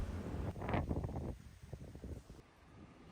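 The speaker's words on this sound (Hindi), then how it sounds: "बहुत ज़्यादा सैंड स्टॉर्म और बहुत ज़्यादा हवा चल रही है" Strong wind blows during sandstorm season in Dubai, buffeting the microphone with loud, uneven gusts that rise and fade, easing toward the end.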